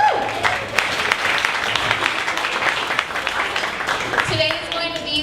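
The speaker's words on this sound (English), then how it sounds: "So, a round of applause for the students." Audience members at a startup pitch event clap and cheer for a group of students, a broad patter of applause with scattered whoops, and a voice begins talking near the end.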